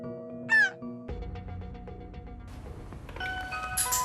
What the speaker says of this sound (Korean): 오늘따라 초인종 소리가 큰 건 기분 탓인가요?